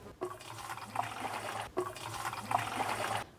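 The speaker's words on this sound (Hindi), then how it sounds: "सबसे पहले हम इस मटके में 5 लीटर पानी डालेंगे।" Water is poured from a container into a clay pot, 5 litres in all, making two bursts of splashing, trickling liquid close by with no talking.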